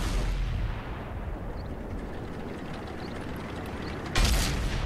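Tank cannon battle in World of Tanks, with E100 and Tortoise firing high explosive shells: a dense, continuous rumble of distant gunfire and mechanical clatter, topped near the end by one sharp, close cannon blast.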